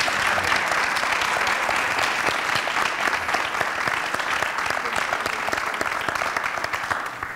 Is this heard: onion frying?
no